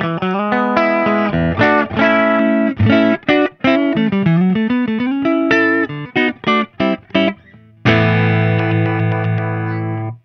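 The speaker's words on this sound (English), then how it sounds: "So first of all, I'm going to give you the clean tone from this wonderful Smitty Coffeecaster" Smitty Coffeecaster electric guitar with Amber Rock P90 pickups played through the clean channel of a Laney VH100, sounding a run of chords and single notes with crisp attacks and a final sustained ringing chord, alone and loud.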